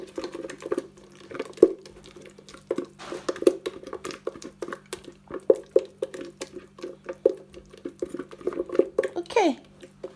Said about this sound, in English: And so I'll just give this a quick stir.